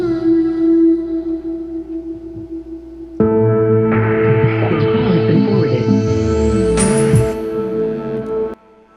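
Playback of an electronic song with a layered synth and drums, loud and dense, starting as a sustained synth chord before drums and a rising sweep kick in, then cutting off abruptly.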